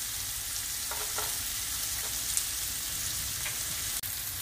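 Onions and garlic sizzling in olive oil in a pan, a steady dense frying hiss with a few faint scrapes of stirring and one sharp clack near the end, close up with no talking.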